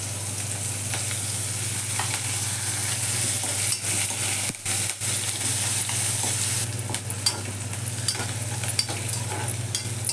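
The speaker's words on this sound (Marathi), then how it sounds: "कांदा चांगला परतून घ्यायचा" Chopped onion with curry leaves frying in a pan, a steady loud sizzle with occasional stirring scrapes and clinks, no voices.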